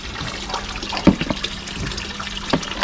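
Water trickles and splashes steadily through the second tank of a small homemade koi pond filter, a continuous close wash of flow with a couple of brief louder gurgles.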